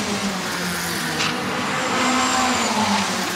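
A USAC Ford Focus race car runs a fast qualifying lap on the short oval at Madera, California, its engine a steady, loud drone with rising tonal sweeps and a brief tire scrub, heard alone without talk.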